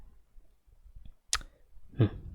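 An Enter key pressed on a computer keyboard during a C++ coding demonstration, a single sharp click standing out against faint quiet tapping, followed by a softer thud.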